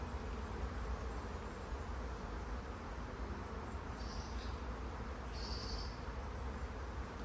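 Honeybees in an open hive during inspection, a queen cell present, fill the air with a dense, continuous droning hum, close and steady throughout, with a couple of brief higher-pitched buzzes rising above it.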